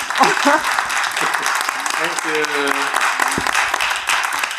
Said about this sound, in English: So one more applause to Okada-san because 2 a.m. now.